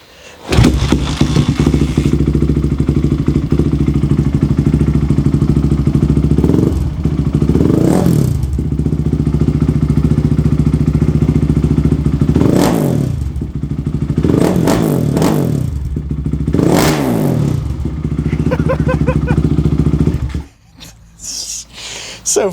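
A Honda 450R ATV with a big bore engine runs loud and close, holding a rough, lumpy idle. Several sharp revs and throttle blips come through, with some clattering, before the engine cuts off near the end.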